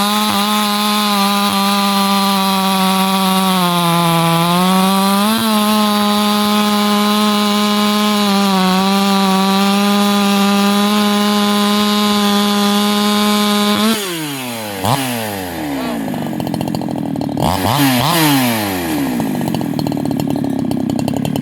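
A G372xp chainsaw runs loud and close, its engine droning steadily at high revs while cutting wood, then bogging and revving up and down through the final cuts.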